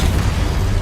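A spell explosion from the Exposo curse in Hogwarts Legacy, a deep, dense low boom that rumbles steadily through the whole short moment with no break.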